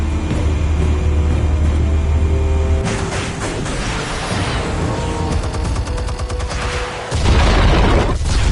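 Explosives detonate in Batman: The Telltale Series with a heavy booming blast, followed by rumbling debris and crackling aftermath, then a second deep low surge near the end; loud and close throughout.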